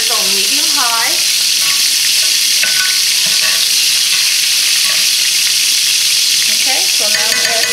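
Butter sizzles and fries steadily in a frying pan over medium-high heat, a continuous loud crackling hiss with occasional scraping stirs throughout.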